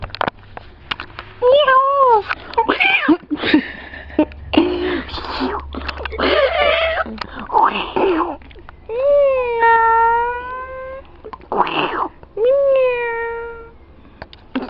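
A cat meows repeatedly in drawn-out, wailing cries, close and loud, alternating with soft human voices in between.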